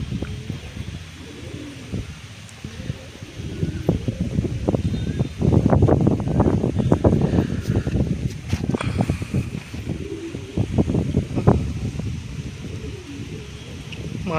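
Golden-eyed pigeons, male and female, at a home loft give soft, repeated cooing close by. Bursts of wind buffeting grow louder in the middle, and there is little or no talk.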